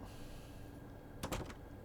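A train cab door in the Train Sim World 6 game closes with a short sliding clunk and rattle, loud and near, standing out briefly against a steady low background rumble.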